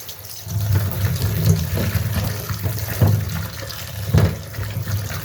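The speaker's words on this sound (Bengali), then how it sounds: "এখন এটাকে আমি জল দিয়ে ধুয়ে নেব।" Mushrooms being washed with water, a continuous close splashing and running of water with louder sloshing surges every second or so, fairly loud and without any voices.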